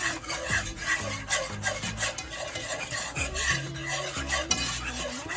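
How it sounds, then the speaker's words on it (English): Whisking a salt-and-pepper seasoned sauce produces rapid, continuous rasping strokes against the bowl, close and fairly loud with no voice. "Whisk it back up again"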